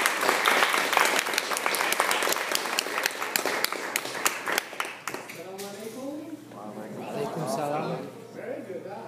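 Audience applause welcoming a speaker to a lecture hall, steady dense clapping for several seconds that fades as the speaker begins talking.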